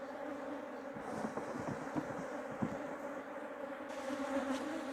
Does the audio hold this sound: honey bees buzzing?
yes